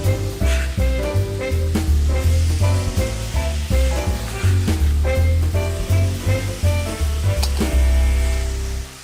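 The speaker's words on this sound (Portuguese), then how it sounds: "Enquanto as minhas cebolas estão caramelizando" Onions caramelizing in olive oil in a pan, a steady loud sizzle and crackle of frying with occasional stirring knocks, close up, with music playing along.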